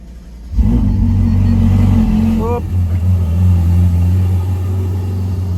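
A supercar engine fires up with a sudden loud burst, then settles into a heavy, close, deep rumbling idle that swells slightly as it revs.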